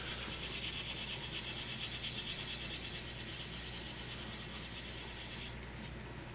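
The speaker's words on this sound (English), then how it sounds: "I'm going to repeat the same sanding with some 3000 grit sandpaper." A guitar fingerboard edge is sanded by hand with 3000 grit sandpaper, a close, soft, continuous rubbing hiss in quick back-and-forth strokes that gradually fades.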